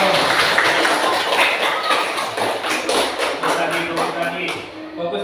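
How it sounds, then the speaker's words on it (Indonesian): A classroom of pupils claps out a set pattern, the third one, with quick, crisp rhythmic taps that repeat steadily over several seconds. Voices murmur faintly underneath. "Tepuk tangan nomor 3 ya."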